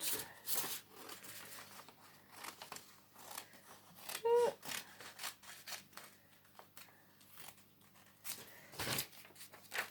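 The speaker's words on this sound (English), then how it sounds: "cut your planet out" Scissors snip through paper to cut out a drawn planet for a children's astronaut-on-the-moon art craft, with a few short crisp cuts and rustling paper heard close up amid quiet handling noise.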